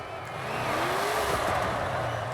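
A 2020 Chevy Silverado Trail Boss truck drifts in Forza Horizon 5: a steady engine drone under a rising, wavering tire squeal as the truck slides, loud and close.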